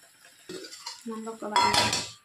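A metal pot lid clanks back onto a pot of goat head curry, with a few scraping and rattling contacts building to a loud ringing clatter near the end.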